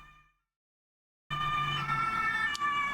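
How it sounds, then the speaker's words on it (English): Ambulance siren passing outside, cutting in abruptly after near silence and wailing loudly in a steady, high-pitched tone with a low engine rumble beneath it. "Ambulance going by."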